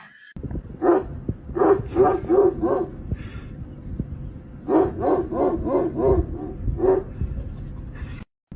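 A dog barks in two rhythmic bursts of four to six yelps, loud and close, mixed with whimpering, between quieter stretches with faint background noise.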